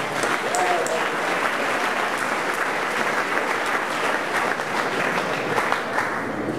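Audience applause at a university student venture showcase: steady, dense clapping from a full room, fairly loud and sustained throughout, with a faint murmur of voices underneath.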